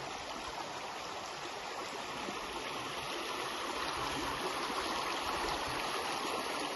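A stream near waterfalls on a Cheviot hillside walk runs steadily and fairly fast, giving a soft, continuous rushing and gurgling wash with no voices.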